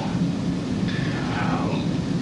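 A thunderstorm rumbles low and steady under a dense wash of rain noise, with a faint higher tone drifting through partway.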